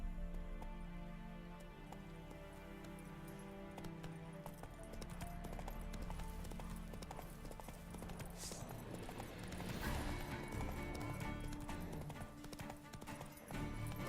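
Horse hooves pounding in The Witcher 3: Wild Hunt, a quick galloping clip-clop over game music and ambience, fairly faint, with brief mid-clip noise bursts.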